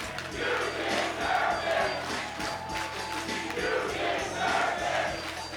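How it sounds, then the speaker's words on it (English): Wrestling show crowd roars in a large hall, a continuous swelling mass of cheering and shouting voices that rises and falls in waves, with a few rhythmic thumps underneath. "Listen to this crowd."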